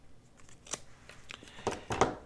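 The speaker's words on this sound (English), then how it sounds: "Let's cut a piece of this paper." Scissors snip through thick paper for a journal page extension, a few close, crisp cuts with short pauses between them.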